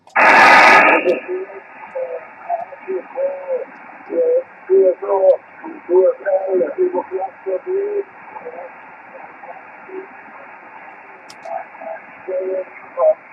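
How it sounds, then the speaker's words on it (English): Steady hiss and crackling static fill an amateur radio band heard through a receiver, with faint, broken voice fragments warbling underneath; a louder crash of noise bursts in at the very start. "I'm getting heavy static crashes here, and it's stronger than your signal."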